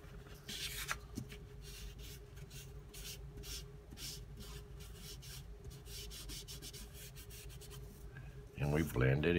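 A tissue rubbed over graphite pencil shading on paper, a continuous soft swishing and scuffing in quick repeated strokes close up, ending with a brief burst of other noise.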